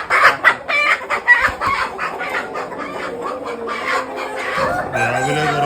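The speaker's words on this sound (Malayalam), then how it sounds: "പൂവൻകോഴിയും പെടക്കോഴിയും ഉണ്ട്." Roosters and hens on a poultry farm where roosters are raised for meat cluck in quick, repeated bursts, with a rooster's drawn-out crow rising near the end, close and lively.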